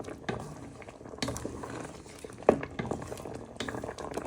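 Moroccan chicken sauce with sugar and red wine vinegar is stirred in a pot, giving a steady simmering bubble with scattered clinks and scrapes of a spoon against the pan, close and moderately loud, with no voices.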